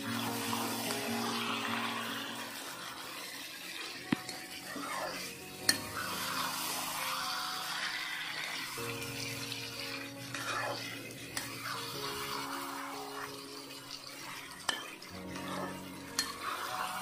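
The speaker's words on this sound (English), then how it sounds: "Now I have to fry it for 1 to 2 minutes" Chicken sizzles in a pan over high flame while a utensil stirs and scrapes it, steady frying hiss with occasional sharp clinks against the metal, close and alone.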